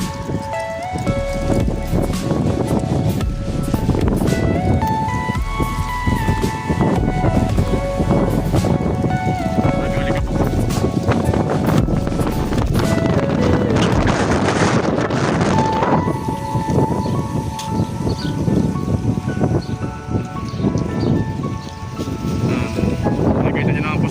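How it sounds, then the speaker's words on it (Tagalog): Strong wind during a sandstorm in Riyadh roars loudly and continuously, tossing trees and buffeting the microphone with gusty rushing noise. "nakita nyo naman po sa mga puno ay talaga napakalakas po ng hangin"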